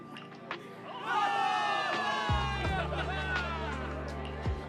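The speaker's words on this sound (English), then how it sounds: "Give it up for yourselves, soldiers. Cheer for victory!" Crowd of soldiers in the video game Zenless Zone Zero cheering for victory, a sustained mass of shouting and whooping voices swelling from about one second on, with low rumbling underneath.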